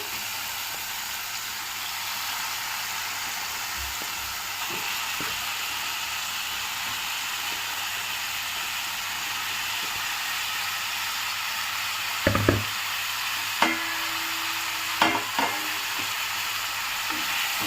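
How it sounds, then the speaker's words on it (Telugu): Marinated chicken fries in tomato paste in a pan, giving a steady, even sizzle throughout, with a few clattering stirs of a utensil near the end. "ఇప్పుడు ఇందులోకి మ్యారినేట్ చేసుకున్న చికెన్ వేసేసుకుందాము"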